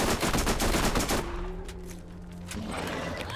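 SMG gunfire in a video game: a loud, rapid burst of automatic shots that cuts off after about a second, leaving a humming tail and game ambience.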